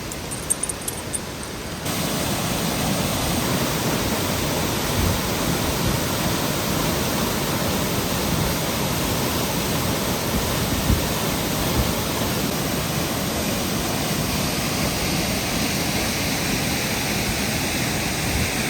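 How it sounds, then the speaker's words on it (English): A steady, loud broadband roar of rushing water from a waterfall beside a snowy winter hiking trail near Lake 22 on the Mountain Loop Highway, continuous and close with no voices. "we're just taking this little social trail to the right because I hear a waterfall."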